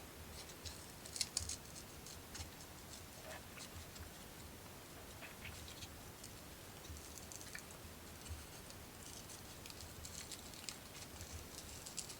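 Small scissors snipping a corner while building a Christmas cottage book nook, giving a few quiet, close clicks and snips near the start over a soft, steady background hiss.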